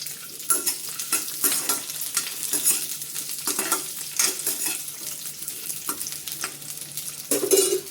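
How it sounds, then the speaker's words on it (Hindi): Chopped onions frying in hot oil in a kadhai, a steady sizzle broken by repeated scraping stirs with a spoon. The stirring comes in a loose rhythm throughout, and a louder burst of stirring near the end. "अब इसी कढ़ाई में प्याज कटे हुए जो हमने रखे हुए थे उसको सॉफ्ट कर लेंगे।"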